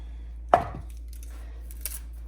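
A knife cutting through a roasted onion on a board, one firm chop with a short crunchy tail and a faint second tap later, close and quiet otherwise.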